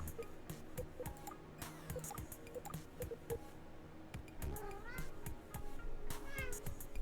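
A house cat meows several times, faint and drawn out, behind a person talking at a computer game, with scattered clicks and small noises around it.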